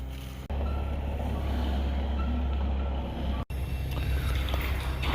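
A large truck with a long wheelbase maneuvering at a yard, engine rumbling steadily while reversing beeps sound repeatedly, with a short break partway through.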